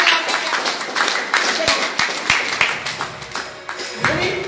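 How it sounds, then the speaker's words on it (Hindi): An audience claps loudly and steadily at a sales presentation for health syrups, a dense wash of many hands close by that runs throughout with sharper individual claps poking out, while voices talk over it. "एक बार जोरदार ताली होना चाहिए"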